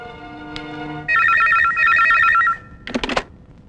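A telephone rings with two loud, warbling electronic trill bursts after a brief tone, then a clatter as the handset is picked up, close and clear.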